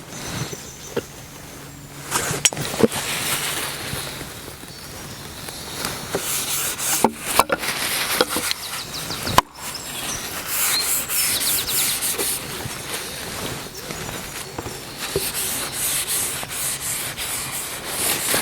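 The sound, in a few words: rubbing boiled linseed oil coating onto a wooden axe handle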